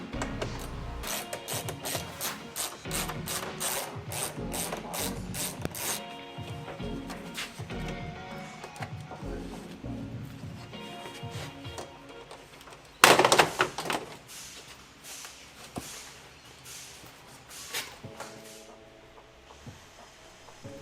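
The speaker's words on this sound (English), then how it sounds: "So once those are removed, a little bit of force takes the whole grille off." Grille bolts come out of a car front with quick ratcheting clicks and small mechanical rattles, then a single sharp crack as the grille is forced off its plastic clips, followed by lighter handling noises.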